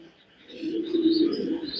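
Pigeons kept in a loft setup give soft, low cooing that swells in the second half of a brief moment, close and fairly quiet, with faint high chirps above.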